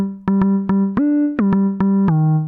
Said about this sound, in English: it's a type of a synth bass actually